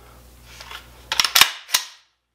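A Bear Creek Arsenal classic 20-inch AR15 rifle trigger is dry-fired indoors, faint handling noise followed by a cluster of sharp metallic clicks as the hammer falls, then one more crisp click on reset.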